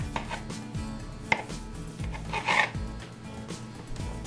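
A knife cuts through old-fashioned sugar cookie dough on a board in a few soft, spaced chops, dividing it into four portions, close and quiet.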